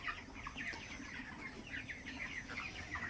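Chickens at a poultry farm cluck in repeated short bursts over a constant low murmur of the flock, close and fairly quiet, with no people talking.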